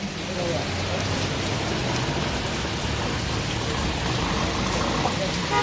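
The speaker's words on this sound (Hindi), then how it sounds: "बारिश ही बारिश भाई" Heavy mountain rain pours steadily on the road from Gangtok toward Lachen in Sikkim, a dense continuous hiss close by, with a faint voice under it.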